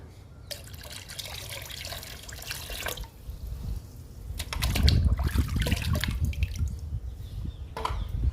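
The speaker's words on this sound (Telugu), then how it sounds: "ఆ లిక్విడ్ కూడా పోసేస్తున్నా" Soaked onion-peel liquid poured into a container in splashy bursts, a trickle at first, then a heavier gurgling pour that tapers off, close up.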